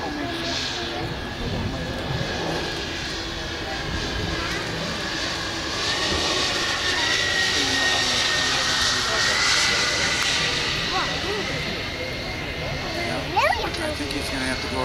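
A scale radio-controlled B-52 model plane circles on approach to land, its jet-like engine whine holding steady and swelling slightly as it passes, with people talking over it throughout.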